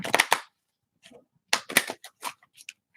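Quick bursts of cards being shuffled up close, riffling clatters in short runs separated by pauses.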